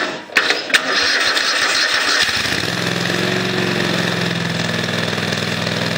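A Kohler CV20S engine on a Craftsman riding mower cranks with a few sharp clunks, catches, and settles into a loud, steady running drone nearby.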